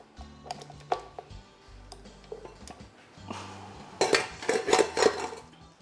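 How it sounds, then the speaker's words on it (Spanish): A balloon whisk is fitted and a mixing bowl handled in a home kitchen while preparing a lemon cake, giving scattered metallic clinks and taps that build into a denser clatter of rattling metal toward the end. "Ponemos el batidor de globo."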